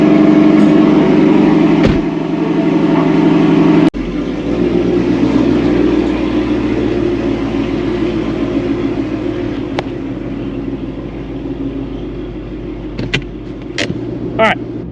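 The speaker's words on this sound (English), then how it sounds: "Cold start." A Ford Coyote V8 running on E85 cold starts with a sharp burst, then settles into a loud, steady, rumbling high idle close by, with a few clicks near the end.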